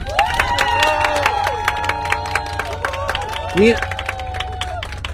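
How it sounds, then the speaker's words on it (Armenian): Crowd applauding to cast a vote, steady dense clapping with some cheering and shouts, under singing and a voice talking over it throughout. "ձեր հզոր ծափերով կարող եք աջակցել"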